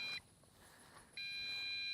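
An MJX Bugs 5W drone sounds its low-battery warning: a steady, piercing electronic tone, briefly present at the start, then returning loud and continuous after a short quieter gap.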